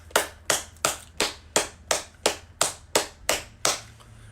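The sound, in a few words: crowd of youths clapping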